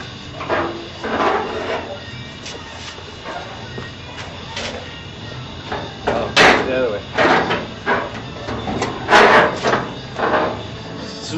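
Wire brush scrubbing a carburetor part in a small pot of gas, irregular bursts of scratchy bristle strokes and light metallic knocks at close range, with some faint background noise.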